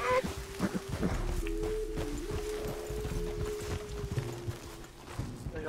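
Horse hooves clip-clop steadily at walking pace in Red Dead Redemption 2, close and moderately loud, with a faint tonal hum and soft game ambience beneath and no talking.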